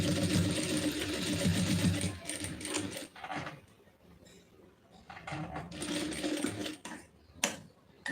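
A sewing machine running a seam along a folded edge of a lining blouse, its steady whirring stitch burst loud for about two seconds, then quieter handling and short stop-start runs.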